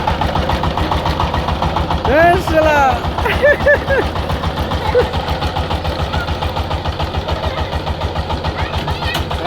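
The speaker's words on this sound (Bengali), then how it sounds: "আমাদের নতুন ড্রাইভার আজকে পাওয়ার টিলার নিয়ে যাচ্ছে" A twenty-horsepower power tiller engine chugs steadily with a low, even knock, heading out to plough a field, with brief voices talking over it early on.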